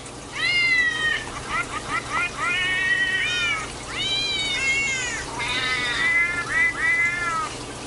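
A cat meows repeatedly in a quick series of rising and falling calls, some drawn out and some short, close and clear over a low background hum.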